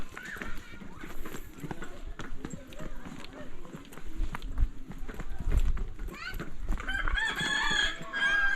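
A rooster crows several times at a distance in a traditional Akha village, under talking, with other outdoor sounds around it.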